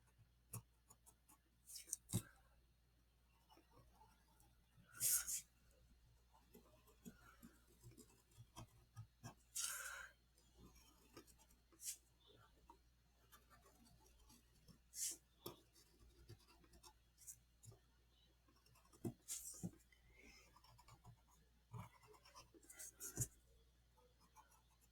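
A black colored pencil shades a drawing of a building in faint, intermittent bursts of soft scratchy strokes on paper, quiet and close, separated by pauses of near silence.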